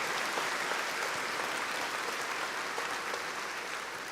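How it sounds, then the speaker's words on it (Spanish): A church congregation claps together in loud, sustained applause, a dense even wash of hand claps that holds steady for a few seconds with no voices over it. "Dele un fuerte aplauso al Señor"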